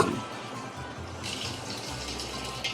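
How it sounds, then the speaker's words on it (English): Water rushing into an old Kenmore washing machine as its inlet valves open, a steady hiss and gush that grows brighter partway through, fairly close. "Let's put it on this, see if the water valves work."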